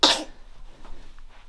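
A dog sneezes once, a sharp close burst at the very start, followed by quieter indoor rustling and movement.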